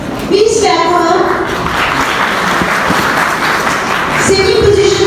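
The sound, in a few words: audience clapping for a medal recipient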